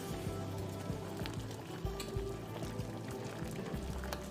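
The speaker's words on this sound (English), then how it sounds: "I've got a pan, some water on a rolling boil, add your potatoes in" Potatoes go into a pan of water at a rolling boil, giving a soft bubbling and sloshing with low thuds and splashes, faint and close, with no talk.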